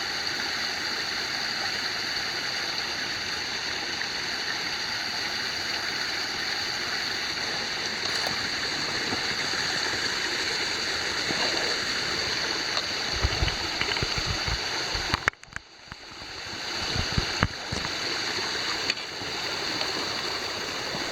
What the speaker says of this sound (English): the creek's running really nice